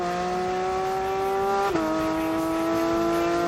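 A Porsche 911 GT3's naturally aspirated flat-six revs loudly and close, holding a sustained, steady high-pitched howl with a brief dip in pitch midway, heard alone without talk.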